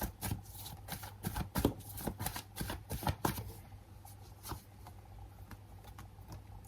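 Tarot cards being drawn and shuffled from a deck, a run of crisp close papery flicks and slides in quick irregular bursts, loudest early and thinning out toward the end, with no voices.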